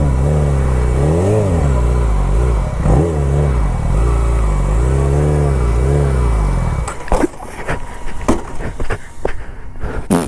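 A drift car's engine revs and bounces through rising and falling pitch sweeps, then gives way to loud clattering bursts and knocks as it works through foot brake to handbrake transitions, close and loud.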